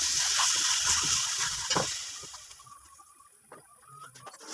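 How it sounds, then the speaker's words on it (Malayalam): Washed chicken pieces dropped into a hot pan of sautéed tomatoes for a Kerala-style chicken curry, giving a loud, steady sizzle and hiss that gradually fades and softens over a few seconds. "ഇനി കഴുകി വൃത്തിയാക്കി വെച്ചിരിക്കുന്ന ചിക്കൻ അതിലേക്ക് ചേർത്ത് കൊടുക്കാം."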